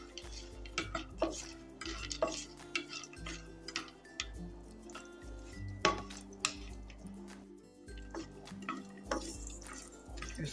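Almonds roasting in a pan as they are stirred for gond and wheat flour laddu: faint, irregular clicks and scrapes of nuts and utensil against the pan, repeating throughout without talk.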